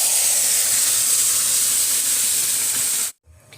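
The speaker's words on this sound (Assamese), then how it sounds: "যেখিনি মই দালি সিজাই থৈছিলো সেইখিনি এতিয়া ইয়াত মই ঢালি দিম" Boiled dal tipped into a pan of frying onions gives a loud, steady hiss and sizzle of steam that lasts about three seconds, then cuts off abruptly into near quiet.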